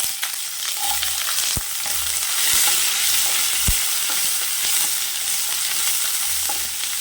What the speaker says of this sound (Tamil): எண்ணெய் சேர்த்துக்கலாம், கடுகு உளுத்தம் பருப்பு சேர்த்துக்கலாம், கருவேப்பிலை சேர்த்துக்கலாம், தேவையான அளவு பெரிய வெங்காயம் சேர்த்துக்கலாம்